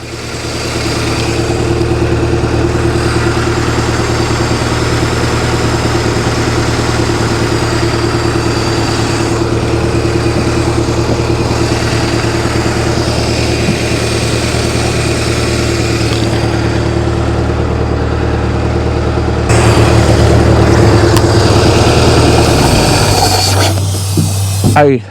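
A boat engine idles close by for the whole stretch, a constant low rumble with a brief change in pitch near the end before it cuts off.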